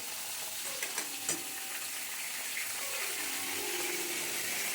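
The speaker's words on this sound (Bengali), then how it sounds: "তুমি সেই পেঁপে ভাজছো" Papaya frying in a pan, a soft, steady hiss of sizzling oil with a few faint clinks of stirring, no one talking.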